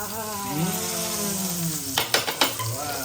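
Pomfret fish coated in semolina fries in a pan, giving a steady close sizzle under a low hum, then a few sharp clatters of a utensil near the end.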